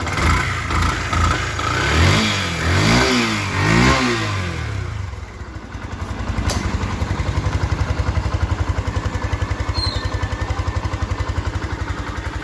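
A Yamaha FZS V2 motorcycle engine revs up and down a few times in quick surges, then settles into a steady, close idle with an even rapid thrum.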